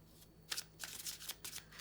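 Tarot cards being shuffled by hand, a run of quick riffling bursts in close succession, near and fairly loud, with no talking.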